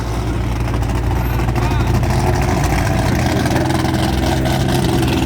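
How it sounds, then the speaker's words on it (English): Dodge Viper twin turbo engine rumbling at idle outdoors at a car show, a loud, steady, deep throb that continues without a break throughout. "Listen to this Viper."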